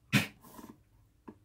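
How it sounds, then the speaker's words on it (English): A single nearby dog gives one short sharp bark, followed by fainter muffled huffs and a brief second yelp, with quiet in between. "That was a dog."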